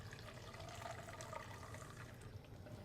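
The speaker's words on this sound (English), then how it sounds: "it's just hot water, and we're pouring that down our drain" Hot water poured down an air conditioner drain line, a faint steady splashing trickle that runs for a few seconds with no pauses and no talking.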